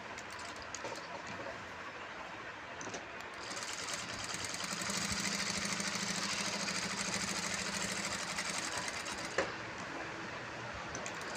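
A sewing machine hums steadily while double stitching a handmade purse, a continuous close mechanical whir that swells slightly in the middle and carries on without any voices.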